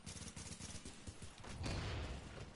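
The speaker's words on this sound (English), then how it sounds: "What is this guy shooting with? Some kind of shotgun." Faint, dense bursts of shotgun fire in The Division's Dark Zone, rapid overlapping reports with a low thumping boom building toward the end, heard at a distance and quietly.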